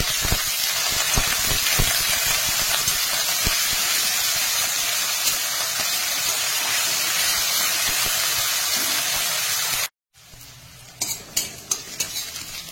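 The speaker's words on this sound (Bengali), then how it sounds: "পেঁয়াজ ভালো করে ভেজে নিয়েছি।" Chopped onions fry in mustard oil in a wok alongside bay leaf, dried red chillies and whole spices, giving a loud, dense, continuous sizzle with stirring that cuts off abruptly near the end, followed by a few light clinks.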